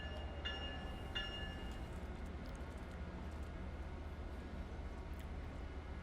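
A Boston Sprinter train in Train Sim World 2 rolls along with a low, steady rumble, fairly quiet and without talk. Two brief tonal blips come early on.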